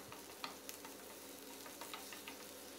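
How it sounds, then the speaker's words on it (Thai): Diced onion is stir-fried in oil in a hot pan. A faint, steady sizzle runs throughout, with light scraping ticks from stirring and no talking. "ให้เราผัดหอมหัวใหญ่ของเราให้สุกแตกกลิ่นหอมเลยนะครับ"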